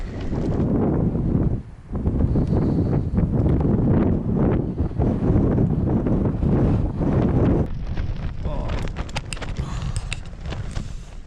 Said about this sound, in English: the pitter patter of raindrops as well as the wind